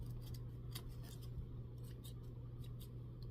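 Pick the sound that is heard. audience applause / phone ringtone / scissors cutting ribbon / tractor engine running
scissors cutting ribbon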